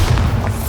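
Bombarda spell explosion in Hogwarts Legacy: a short, loud, low boom that rumbles briefly and then fades.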